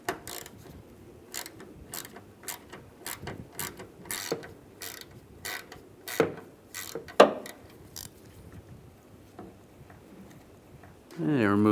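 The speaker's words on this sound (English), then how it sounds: "Remove this bolt right here. Use the same 7mm socket." A 7mm socket wrench ratchets in a string of quick sharp clicks, removing a bolt under the hood of a 2007–2013 Chevy Silverado during a wiper transmission replacement, with a louder metallic clunk near the end.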